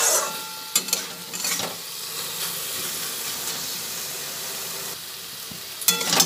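Chhana (fresh cheese curds) and potatoes with spices being stirred and fried in a pan, a loud continuous sizzle with scraping stirs and occasional sharp clatters of the spoon against the pan.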